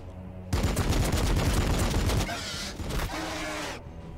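Unit gunfire in Warhammer 40K: BattleSector, a dense, loud, continuous volley of rapid shots lasting about three seconds, then a shorter second burst before it cuts off.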